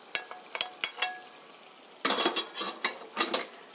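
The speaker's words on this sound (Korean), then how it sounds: "5분간 볶아주세요." Fried chicken pieces stir-fried in a bubbling spicy sauce for seasoned Korean chicken, giving bursts of wet sizzling and spatula scrapes against the pan, close and fairly loud, with no one speaking.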